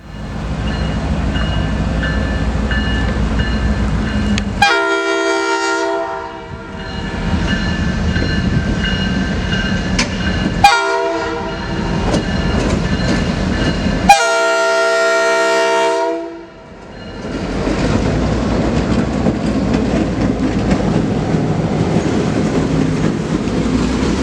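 An Iowa Interstate Railroad freight train rolls past with repeated long horn blasts, loud and close, over a steady rumble and clatter of wheels on track.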